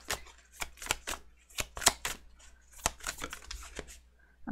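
Tarot cards are shuffled by hand in a quiet room: a series of crisp, sharp riffles and slaps in irregular bursts, close and distinct, with short pauses between.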